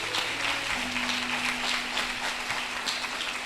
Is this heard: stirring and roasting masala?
no